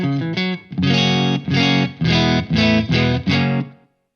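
Ibanez electric guitar on the single-coil neck pickup through a Wampler Ratsbane pedal, a quick run of notes followed by five or six punchy strummed chords, evenly spaced and loud, ending in a short fade.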